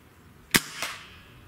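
A single sharp crack from a .30 caliber air rifle, the Gamo Swarm Magnum or the Hatsan 135, fires nearby, followed a moment later by a softer second report, likely the pellet striking the distant target.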